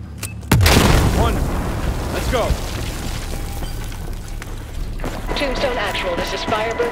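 A single loud, close boom of a wall being blown apart in a war video game, with a heavy low blast and rumbling debris that settles into sustained noise and distant ambience while voices talk.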